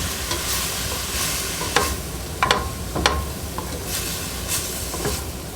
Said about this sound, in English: Get our tongs and we're going to mix that up.